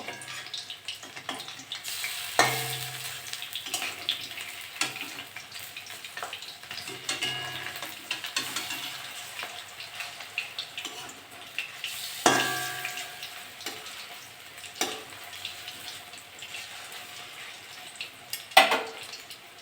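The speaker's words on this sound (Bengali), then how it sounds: "সব বড়াগুলো ভাজা হয়ে গেছে" Banana flower fritters fry in oil, a faint steady sizzle broken by occasional clinks and scrapes of a utensil turning and lifting them.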